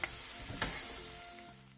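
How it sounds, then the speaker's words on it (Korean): Cucumber chili peppers stir-fry briefly in a pan with a reduced sauce, a faint, soft sizzle with a couple of light scraping touches near the start. "오이고추를 넣고 1분 정도 가볍게 더 볶아주세요"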